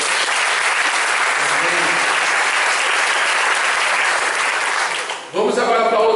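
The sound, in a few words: church congregation applause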